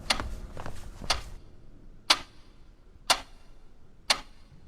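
A clock ticks in a horror-story soundscape, a few quicker clicks at first and then single sharp ticks evenly spaced about a second apart, crisp and close against low background hiss.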